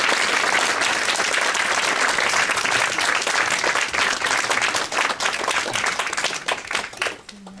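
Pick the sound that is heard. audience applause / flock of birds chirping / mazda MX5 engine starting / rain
audience applause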